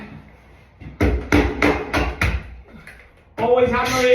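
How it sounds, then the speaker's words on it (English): Wall plugs being hammered into a wall during a bathroom renovation: a quick run of five or six loud, close hammer strikes, then a couple of lighter taps, with someone talking at the end. "Always hammer the plugs in."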